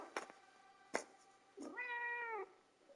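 A pet cat on its first outing in the rain gives a single drawn-out meow, close and clear, after two short soft bumps.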